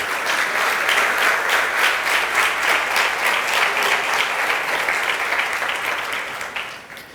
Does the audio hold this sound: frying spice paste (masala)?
no